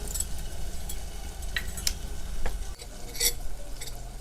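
Spice masala dropped into hot oil for tomato rice, a soft steady sizzle broken by a few sharp clinks and scrapes of a spoon against the pan, close and moderately loud with no talking.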